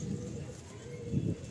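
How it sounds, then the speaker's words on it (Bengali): Dabbale breed pigeons, breeding stock in a loft, cooing softly in low murmuring bursts, with a fuller coo near the end over faint background hum. "এগুলো ডাববালে পেয়ার।"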